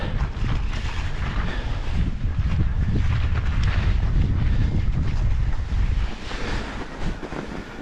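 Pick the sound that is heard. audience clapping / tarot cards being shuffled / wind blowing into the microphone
wind blowing into the microphone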